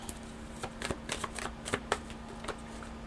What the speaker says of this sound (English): Let me pull some other cards